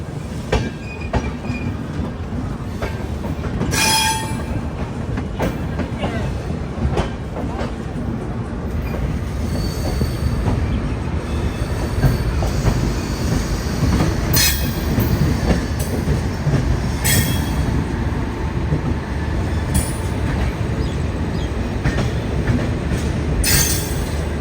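Trains at Kashi railway station in Varanasi, with a continuous rumble of rolling stock, clattering wheels and occasional squeals, loud and steady throughout, with some background voices.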